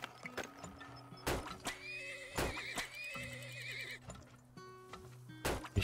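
Horses neigh and whinny repeatedly in the video game Turmoil, with sharp hoof clops and quiet game tones underneath.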